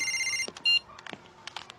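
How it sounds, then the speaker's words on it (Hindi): A telephone rings with bright electronic trills, followed by a few quiet clicks and rustles in an otherwise still room. "उठा ले बेटा, तेरी मम्मी का ही फोन होगा।"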